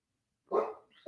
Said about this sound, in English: That's my dog now barking to come back in.